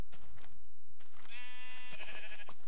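A single drawn-out sheep bleat in Minecraft, clear and fairly close, with faint background game noise and no talk.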